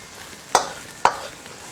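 Water bamboo shoots are tossed into a hot wok with pickled mustard greens and seasonings, two sharp scraping stirs landing about half a second apart over a faint background sizzle.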